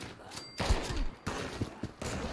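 Gunfire in the video game Fallout 76, several loud bursts of shots in quick succession with short gaps between them, close and punchy over a game soundscape, with faint talk underneath.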